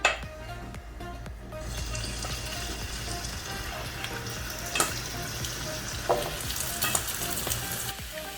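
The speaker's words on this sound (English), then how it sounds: "Oil's nice and hot. Let's start adding our meat." Lamb pieces frying in hot oil for a Cape Malay tomato bredie, a steady broadband sizzle throughout with a few sharper crackles and spatters, close and moderately loud, no talking.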